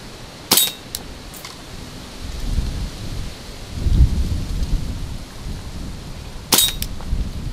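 Strong outdoor wind buffets the microphone in low, rumbling gusts that swell and fade, with two sharp cracks from an Umarex Legend P08 air pistol being fired.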